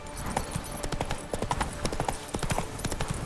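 Steady clip-clop of Roach, Geralt's horse in The Witcher 3, trotting at a regular rhythm, close and fairly loud, with ambient game sound underneath.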